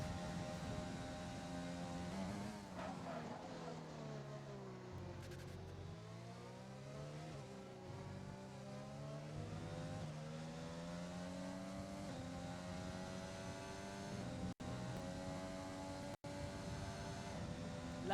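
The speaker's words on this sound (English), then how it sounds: "Lovely to hear the car down through the centre S's" A racing car in a video game of the Brazil Grand Prix sweeps through the esses, its engine note rising and falling steadily through gear changes for about eighteen seconds, loud and without talk.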